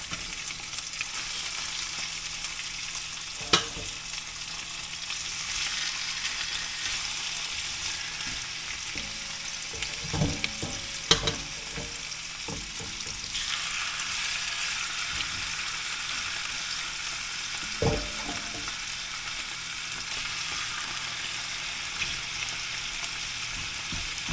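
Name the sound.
chicken thighs browning and sizzling in a pan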